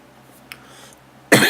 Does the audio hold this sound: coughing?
yes